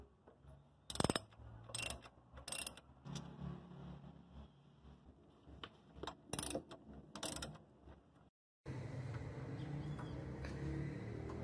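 A wrench breaks loose the front brake caliper bolts on a Ford EcoSport, giving short, sharp ratcheting bursts in separate groups, followed by a steady background hiss.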